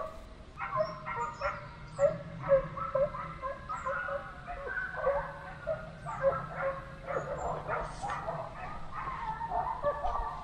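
Hunting dogs bark and yip during a wild boar drive hunt in the countryside, a fairly distant chorus of repeated, overlapping calls with some whimpering, faint birds in the background.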